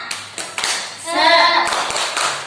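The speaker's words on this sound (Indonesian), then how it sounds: "Coba tepuk semangat dulu, tepuk semangat." An audience at an early-childhood learning session does a rhythmic spirit clap, with sharp patterned claps near and loud, broken by a group shouting out together in the middle.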